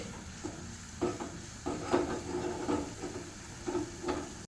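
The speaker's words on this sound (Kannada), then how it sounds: "ಇಲ್ಲಿ ಬೆಳ್ಳುಳ್ಳಿ ಫ್ರೈ ಆಗ್ತಾ ಇದೆ." Garlic fries in oil for a tempering poured over a Tulu-style fish curry, a soft close sizzle with intermittent stirring scrapes and spoon taps.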